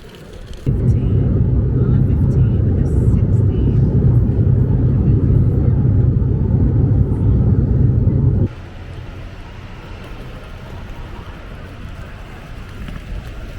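An airplane cabin fills with a loud, steady engine roar and low rumble in flight, then cuts abruptly to a quieter, thinner hum partway through.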